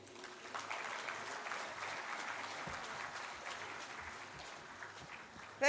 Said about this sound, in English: Please, can we give another round of applause because he deserves that.